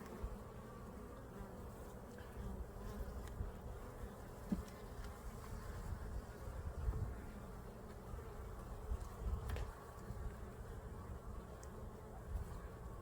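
Honeybees hum steadily around an open hive holding drawn comb with nectar and capped honey, a dense close-up drone with no voices over it.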